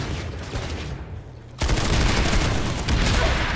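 A frag grenade and gunfire in Planetside 2 on PS4: a quieter stretch, then a sudden loud burst of dense, continuous shooting that carries on to the end.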